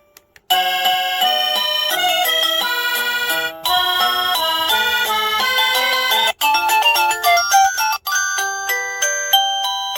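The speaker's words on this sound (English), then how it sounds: "Different ringtones." A wireless caregiver pager plays a bright electronic chime melody loudly and repeatedly, with quick ringing notes that cut off briefly and restart a few times.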